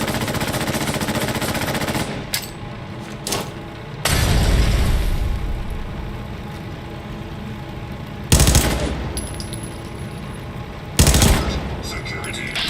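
Fallout 4 combat with grenade explosions and gunfire: loud booming blasts at intervals, with bursts of rapid shots and crackling between them, heavy and close throughout.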